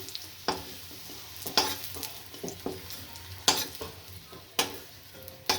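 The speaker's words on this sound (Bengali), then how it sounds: "আলুগুলো আমি তুলে নিচ্ছি, লাল করে ভেজে নিয়েছি।" Boiled potatoes fry in a pan with a low sizzle while a spatula scrapes and clatters through them in irregular, close strokes every second or so, with no talk.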